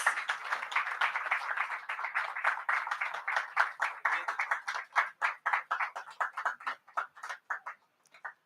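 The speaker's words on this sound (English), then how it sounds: "Let's have a round of applause." A modest audience at a live event claps, dense at first and then thinning into separate, distinct claps that fade toward the end.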